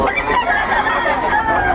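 Chickens and roosters at a market in Bocaue cluck and crow together in a loud, dense chorus close by.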